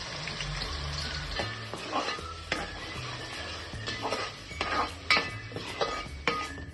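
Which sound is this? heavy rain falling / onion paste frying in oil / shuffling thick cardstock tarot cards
onion paste frying in oil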